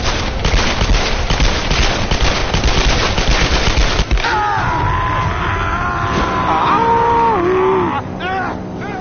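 Rapid bursts of gunfire from a gun in the Tomb Raider video game crackle loudly for about four seconds, then give way to game sounds with wavering tonal cries and a distant yell.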